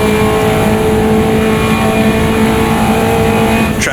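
A Caterham race car in the AMS2 racing game at Cadwell Park holds a steady, loud engine drone throughout, the pitch nearly constant as it runs hard, with a brief tonal blip near the end.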